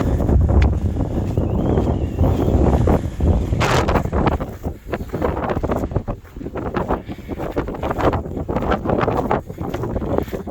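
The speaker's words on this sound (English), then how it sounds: "So strongest wind is here on the top." Strong, gusting wind roars across the exposed summit of Litla Sandfell, a small volcano in Iceland, buffeting the microphone with heavy low rumble and surging continuously for the whole stretch without speech.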